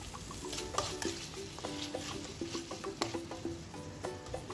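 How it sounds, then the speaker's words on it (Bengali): Spice paste with sweet yogurt, sugar and turmeric frying in a pan, a quiet sizzle under frequent rhythmic scrapes and taps of a spoon stirring against the metal. "আমার মশলাটা কষানো হয়ে গেছে"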